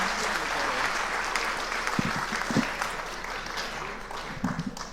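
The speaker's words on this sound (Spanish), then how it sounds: "Bueno, fuerte aplauso, Santiago, doctor Santiago Jiménez." An audience at a lecture gives a long, strong round of applause. The clapping is dense and sustained, with a few louder claps near the middle and a gentle fade toward the end.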